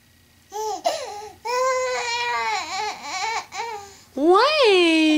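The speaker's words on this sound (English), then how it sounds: "Were you saying da da?" A baby babbles in short repeated syllables, rising and falling in pitch, with brief pauses between bursts and a louder squeal near the end.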